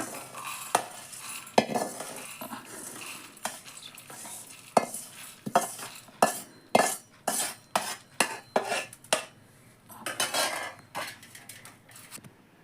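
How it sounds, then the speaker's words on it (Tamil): Spices dry-roasting in a pan give a series of close scraping and clattering stirs with a utensil against the metal, mostly irregular and rapid, with no talk. "இப்போ நம்ம இதை வறுத்து எடுத்துக்கிறோம்"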